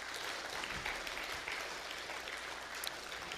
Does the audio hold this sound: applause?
yes